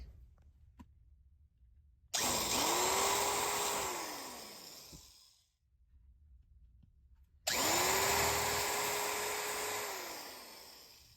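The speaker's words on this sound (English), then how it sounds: "when you're drilling out in the plastic, don't try and drill it one step" Two bursts from a power drill boring into plastic, each whining up to a steady high-pitched grind for a few seconds before winding down, separated by a short quiet gap.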